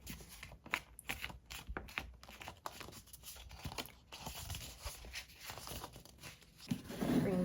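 Paper file folder being folded in half and creased flat with a bone folder for a mini album, giving soft close crinkling, rustling and sliding paper sounds with brief scrapes, quiet and irregular.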